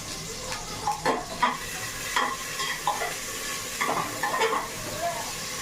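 Chopped tomatoes added to browned cumin in a home kitchen pan, sizzling softly while a utensil stirs and scrapes in short repeated strokes.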